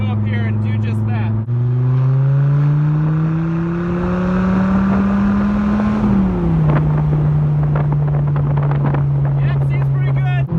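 A Dodge Viper accelerates hard, heard loud and close from inside the car. The engine note climbs steadily, dips briefly at a shift early on, rises again, then drops back to a steady drone, with wind rush throughout.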